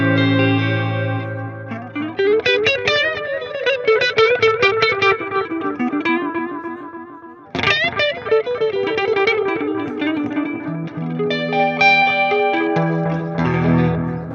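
Electric guitar running a delay effect through an amp's effects loop, loud and close, with chorused, distorted chords and swirling repeats trailing into echo, a brief break midway, then more ringing delayed notes and no speech.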